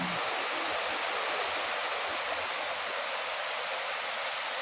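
Strong wind and heavy rain during Typhoon Kristine under Signal No. 2, a constant dense hiss of pouring rain and rushing air, steady and enveloping with no voices.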